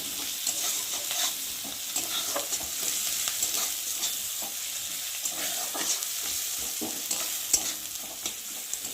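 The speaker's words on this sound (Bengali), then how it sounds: "রসুনটা দিয়েছে তো একটু ভাজা ভাজা না হলে রসুনের একটা গন্ধ বেরোবে কাঁচা কাঁচা" Onion and garlic sizzle in hot oil in a pan, a constant close frying hiss broken by scattered spatula scrapes and small pops, with no voices.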